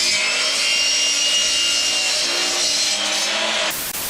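A wood saw cuts through material in one steady, continuous rasping stretch, loud and close, ending with an abrupt change as the cut finishes.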